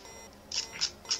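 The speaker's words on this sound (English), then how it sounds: "That's the electricity alarm." Low power electricity alarm in the Factorio video game, three short, bright beeps in an even rhythm, fairly faint over a quiet background.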